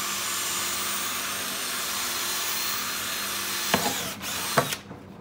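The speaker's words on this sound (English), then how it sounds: "So this drill bit must be the bluntest drill bit in history." A steady mechanical drilling whine from a blunt drill bit runs throughout, grinding without much bite, then a few sharp knocks and clatters near the end as it stops.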